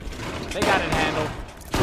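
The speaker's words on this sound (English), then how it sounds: "Bullets are flying everywhere. Somebody's shooting at me from somewhere." Rapid gunfire in the video game Fallout 76 crackles in quick bursts across the short stretch, close and fairly loud, with a sharp burst at the end.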